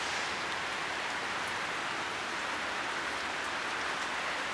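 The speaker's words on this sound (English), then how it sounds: "So it looks like pretty soon about to get slammed by heavy rain." Heavy rain pours down outdoors in southeastern Pennsylvania, a dense, steady hiss that stays constant throughout with no voices.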